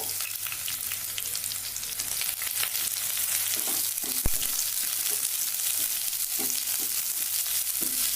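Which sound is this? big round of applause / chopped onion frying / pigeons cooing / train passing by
chopped onion frying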